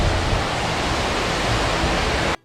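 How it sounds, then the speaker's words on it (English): A water park is filled with a loud, constant roar of rushing, splashing water that continues without a break, then cuts off suddenly. "I took this footage of me sitting in the water park, and just listen to how loud it is."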